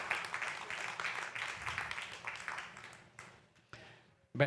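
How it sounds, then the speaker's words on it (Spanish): Congregation applauding during a year-end church service, steady clapping of many hands at moderate distance that fades out toward the end. "Den un aplauso al Señor"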